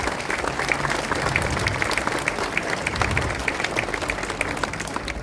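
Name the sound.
audience applauding at bridge inauguration speech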